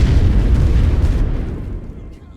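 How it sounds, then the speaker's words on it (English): Artillery barrage in the WWI strategy game The Great War: Western Front: a heavy, continuous rumble of overlapping booms that fills the low end and slowly fades over a couple of seconds. "that is a lot of artillery."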